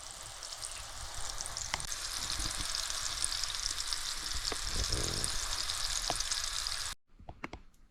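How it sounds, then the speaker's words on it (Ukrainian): Steady hiss and crackle of pike fish patties frying in a hot pan, continuous and close, with a few sharper pops, cutting off abruptly near the end. "просмажується на сковорідочці"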